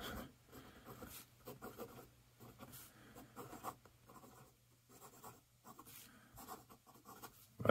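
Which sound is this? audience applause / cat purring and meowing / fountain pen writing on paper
fountain pen writing on paper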